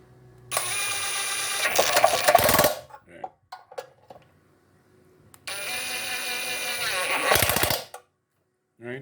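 Impact wrench running up a 14 mm bolt on the engine mount of a 2006 Nissan Y11 AD, two loud close bursts of rapid rattling hammering, each lasting about two seconds, separated by quieter clicks and handling noises.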